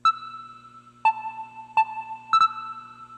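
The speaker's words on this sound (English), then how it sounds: "As you can hear the reverb" Four tonal drum hits, spaced irregularly, each ringing out with a long, reverberant tail from a hall reverb effect against a quiet background.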